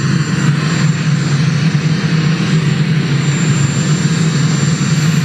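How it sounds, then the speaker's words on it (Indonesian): Aircraft engine noise from Air Force One, the US presidential jet, departing for China under tight security escort: a loud, steady broadband roar with a low rumble that holds constant throughout, with no voices. "Trump berangkat ke Cina menggunakan pesawat Air Force One dengan pengawalan ketat"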